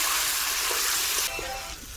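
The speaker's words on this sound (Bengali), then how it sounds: "আর এখন দেখো জল দিয়ে দিচ্ছি।" Water is poured into a pan of meat curry that has been fried down. It meets a loud, dense sizzle and hiss throughout, which shifts and eases slightly midway, with faint talk underneath.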